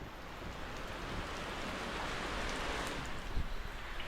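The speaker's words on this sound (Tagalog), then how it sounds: "Umuulan na mga kanipi." Steady rain falls outdoors in the Philippines, a continuous broadband hiss of drops at even, moderate loudness with no voices.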